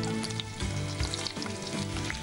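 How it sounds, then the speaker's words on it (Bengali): Chopped onions sizzling in hot oil in a pan, a steady close frying hiss with small crackles and faint stirring. "পেঁয়াজটা একটু ভাজা হবে"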